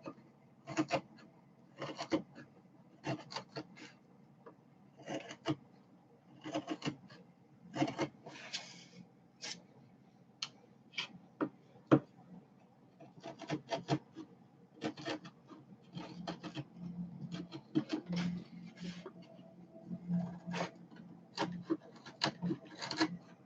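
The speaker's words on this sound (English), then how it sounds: "Nice sharp chisel going sideways through the grain." A sharp chisel pares sideways across the wood grain while shaping a Japanese koshirae tsuka handle, giving repeated close scraping and rasping strokes in uneven bursts.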